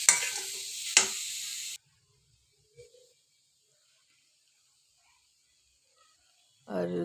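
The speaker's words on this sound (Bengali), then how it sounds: "1 চামচ ধনিয়া পাউডার। ভালো করে মিক্স করে নেব।" A spoonful of coriander powder is mixed into a vegetable chop filling with a short, close burst of scraping and sizzling. A long silence follows, then a voice begins at the end.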